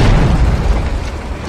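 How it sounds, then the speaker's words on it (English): Stun grenade going off in a video game: a single loud, deep boom with a rumbling tail that fades slowly over a second or so, heard alone without voices. "And stun grenade."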